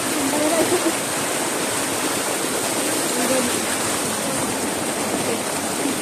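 Loud, steady rushing water fills the whole stretch, a dense broadband roar like a heavy downpour or torrent, close and unbroken.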